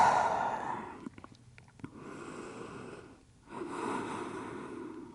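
Two slow, full breaths taken while resting forehead to the floor with knees wide in a barre stretch, each a soft, airy inhale and exhale close to the mic with a brief pause between.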